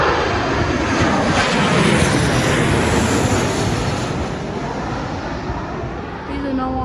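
A fixed-wing airplane passing over Melbourne Airport, heard as a loud, steady, broadband engine roar for the whole stretch that eases slightly toward the end.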